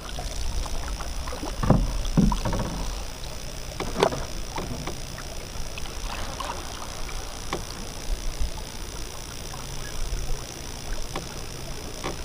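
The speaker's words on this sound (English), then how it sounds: "I'll paddle." A canoe is paddled across Clear Lake, with soft irregular splashes and dips of the paddle, a few louder strokes near the start, over a quiet open-air background of light water lapping and faint wind, no voices.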